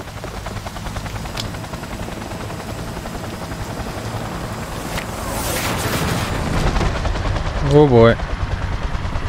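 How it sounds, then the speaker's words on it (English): A helicopter's steady rotor drone in Cyberpunk 2077 holds throughout, with a rising whoosh midway and a brief spoken exclamation near the end. "And the helicopter is gone."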